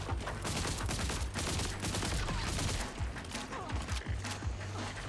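Gunfire in the video game Borderlands 4, rapid bursts of shots fired close together in quick succession, dense and continuous over game background sound.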